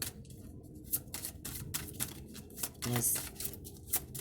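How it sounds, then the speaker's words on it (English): Shaman Healing Oracle cards being shuffled by hand: quiet, close riffling and soft slapping of the deck in quick, irregular bursts. "I have my Shaman Healing Oracle cards. I'm shuffling."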